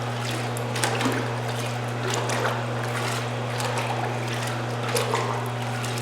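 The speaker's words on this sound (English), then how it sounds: "Submerge the filter, and you want to swish it around for about 10 seconds." A pool or spa cartridge filter is swished back and forth while submerged in water, producing a continuous soft sloshing and trickling with faint splashes over a steady low hum, no voices.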